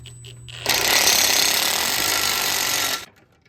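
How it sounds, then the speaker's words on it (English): A loud, continuous mechanical whine of a drill boring holes into truck metal in a workshop, starting abruptly and running steadily for a couple of seconds before cutting off. "start drilling those 3 holes"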